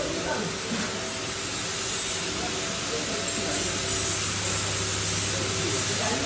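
A 10 HP multipurpose masala grinder with a food-grade 304 stainless steel body and a blower system runs with a loud, steady whirring roar and a constant hiss, holding an even level throughout with no breaks.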